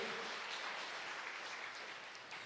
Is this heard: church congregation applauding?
yes